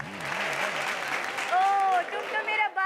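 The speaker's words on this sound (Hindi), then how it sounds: "इनके लिए जोरदार तालियां।" Crowd applause at a Hindi comedy show, a broad clapping wash with a voice speaking and calling out over it toward the end.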